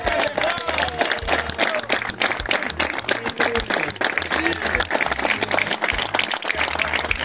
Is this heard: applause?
yes